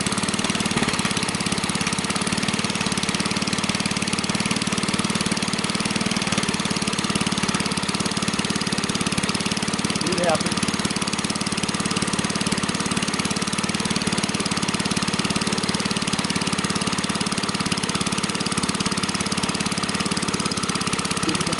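A Kohler K141 single-cylinder small engine runs at low idle, a continuous, fairly loud mechanical rumble with steady chugging and no change in pace over about twenty seconds; no talking.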